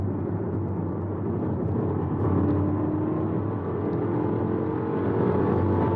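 A BMW X1 with a Bootmod3 flash tune accelerates at full throttle, its engine producing a steady, strong drone with road and wind roar heard from inside the cabin.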